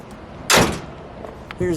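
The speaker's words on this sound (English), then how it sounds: "Let's shut that door. Let's shut that hood." A 1958 Chevrolet Impala Sport Coupe having its door and then its hood shut outdoors: one solid slam up close, then after a pause a second duller thump, with faint talk in the background.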